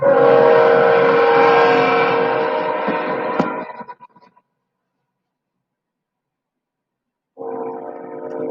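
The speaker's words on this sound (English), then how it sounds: "Train." A loud passing train roars with heavy rumbling noise, fades into silence, then the rushing rumble returns a few seconds later.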